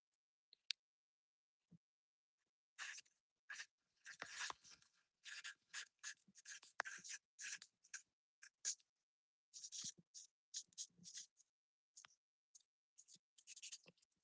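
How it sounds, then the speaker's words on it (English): A pen writes on a sheet of paper in short scratchy bursts of strokes with brief pauses between them. The sound is close but faint, and nobody speaks. "Can I write that on a piece of paper?"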